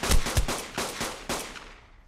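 A pistol fired repeatedly in the video game Ark: Survival Evolved while clearing bugs in a cave: a rapid run of about six loud, punchy shots with a short echoing tail, no voices.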